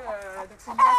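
A Coucou de Rennes hen clucks in a henhouse, giving a few close, harmonic calls with a short pause in the middle and a louder, drawn-out call at the end.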